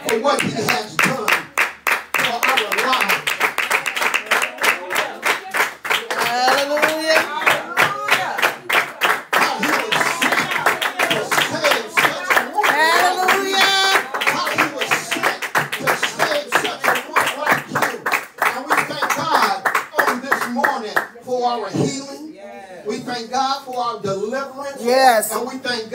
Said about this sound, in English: Now give God a hand